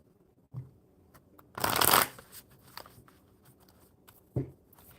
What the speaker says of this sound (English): One more good shuffle, and we'll see if we can get 3 cards to fall.